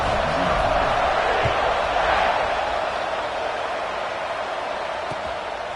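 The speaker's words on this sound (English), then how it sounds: "this crowd is feeling themselves after that last drive" A football stadium crowd at an Auburn game keeps up a broad, sustained roar of cheering that fades slightly toward the end, heard from a distance with no clear voices on top.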